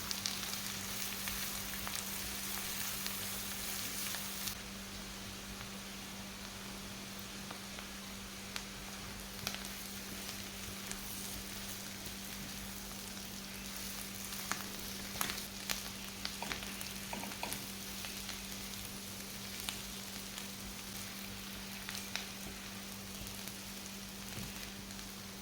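Salted jackfruit with grated coconut and turmeric stir-fries in a pan, giving a faint, steady crackling sizzle with small scattered pops and light stirring sounds throughout.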